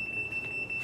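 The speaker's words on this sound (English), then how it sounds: "notice the little beeping noise. It's coming from the garage door opener." A LiftMaster 8500 Elite Series jackshaft garage door opener sounds its steady warning beep before closing remotely, a thin high-pitched tone held under a quiet room background.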